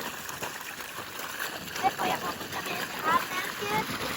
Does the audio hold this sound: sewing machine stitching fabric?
no